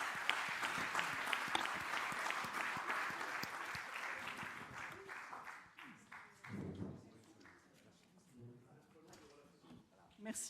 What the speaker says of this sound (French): Peut-être l'applaudir quand même.